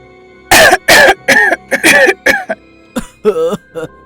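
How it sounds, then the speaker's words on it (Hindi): Loud, close coughing and throat clearing in a rapid series of sharp bursts, with a voice acting out the coughs. "गांव वाले जोर जोर से खांसने लगे।"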